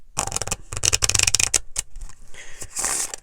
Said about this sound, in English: a difficult shuffle with new decks when they haven't been properly broken in